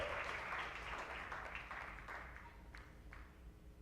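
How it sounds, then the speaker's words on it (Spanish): A church congregation applauds, a quiet wash of many hands clapping that fades gradually over a few seconds, heard from some distance. "Denle ese aplauso a Cristo"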